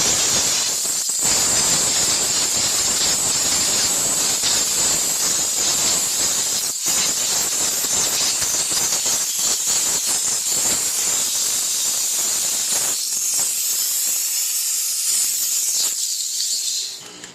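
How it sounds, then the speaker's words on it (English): A steam car wash machine blasts pressurized hot steam into a car interior, a loud continuous hiss lasting well over a dozen seconds with brief pauses before cutting off at the end. "simply with the steam, pressure, and the heat itself, we're going to get in there, blow all this stuff out really fast"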